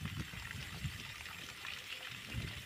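A child splashes and plays with water in a field on a farm near Pandharpur, Solapur, with trickling, pouring water and uneven bursts of splashing close by.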